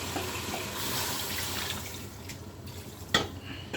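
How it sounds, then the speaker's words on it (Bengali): Water poured into a pan of fish curry, a steady liquid splashing and running that fades partway through, ending with a brief clatter. "এখন আমি পানি দিয়ে দিব।"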